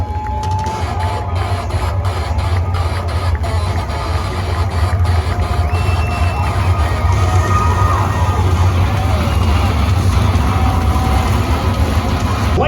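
Crowd cheering and shouting at a USAC sprint car national championship race night in Indianapolis, a dense roar filling the whole stretch with engine rumble underneath.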